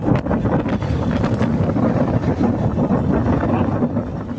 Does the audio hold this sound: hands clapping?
no